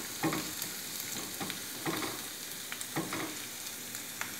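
Garlic frying in a pan ahead of onions for veg manchurian: a continuous close sizzle with several soft scraping stirs recurring roughly every second, no voices.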